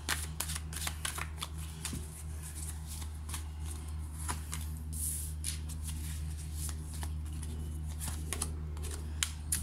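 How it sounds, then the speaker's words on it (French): Tarot cards are handled and drawn, giving soft, close papery shuffles and flicks spread over a low steady hum, with no talking. "on va prendre une carte pour votre autre, une carte pour vous"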